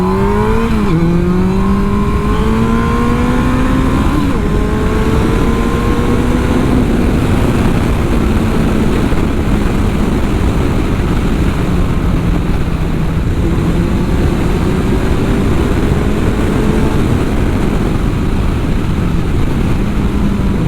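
Yamaha FJR1300 sport touring motorcycle pulling away from a stop, its engine note climbing steadily through several gear changes and settling into a loud, sustained drone under heavy wind noise.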